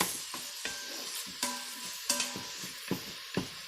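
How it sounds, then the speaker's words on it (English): Bacon sizzles and spits in a Pampered Chef Quick Cooker, a steady hiss punctuated by sharp crackles and spoon-stirring scrapes roughly every half second, close and moderately loud with no talking. "So your bacon will cook for about 3 to 4 minutes."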